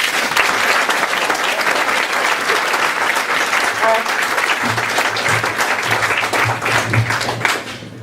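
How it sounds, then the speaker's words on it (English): Audience at a live debate event in Leeds breaking into sustained applause, dense clapping from a crowd filling the room at steady volume, with a voice briefly audible near the end. "let's have a big round of applause, please, for Mick McCann"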